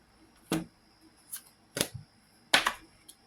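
Tarot cards drawn and flipped from a deck during a reading, heard as three or four crisp, close papery snaps and slides spaced about a second apart, with no talking.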